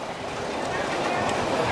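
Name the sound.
amusement park train ride running on track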